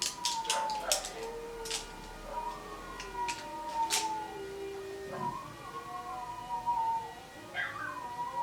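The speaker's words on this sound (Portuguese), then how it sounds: "além da ambulância, as minhas cachorras uivam" Dogs howl in long, wavering, rising and falling tones, overlapping each other at a moderate distance in a quiet setting.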